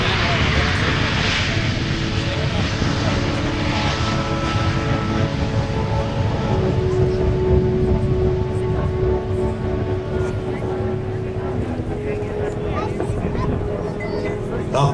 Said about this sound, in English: Faster and faster the aircraft goes.